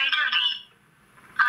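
A smartphone rings after being triggered by the find-phone function of a cheap Chinese U9 fitness tracker, giving short bright ringtone bursts that fade and then return.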